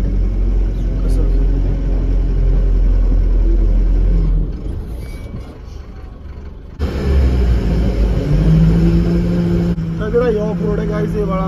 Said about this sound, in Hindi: अब देखना भाई इस पॉइंट से मैं कैसे निकालूंगा गड्डी एकदम आराम आराम से